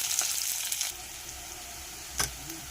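Sliced onion fries in hot oil with a bay leaf, a close, bright crackling sizzle that is loudest at first, then settles into a softer steady hiss with a brief stirring clatter, and no one speaks.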